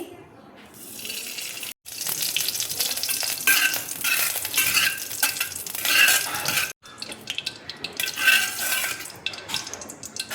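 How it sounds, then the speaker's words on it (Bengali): Ghee sizzles steadily in a wok, a bright crackling hiss with brief pauses and some scraping, close and fairly loud. "এবার দেখো কড়াইয়ের মধ্যে আমি ঘি দিয়ে দিচ্ছি।"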